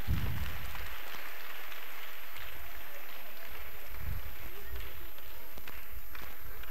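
An audience of children and adults at a vacation Bible school prize ceremony claps for a musical chairs winner, a broad burst of applause that thins out as chatter carries on in the hall.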